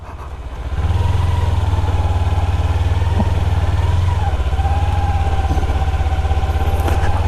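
A Kawasaki Ninja 300 and a Yamaha R15 motorcycle run close by, a loud, steady engine drone that rises in level after the first second and holds a throbbing idle-to-cruise note throughout, with no talk.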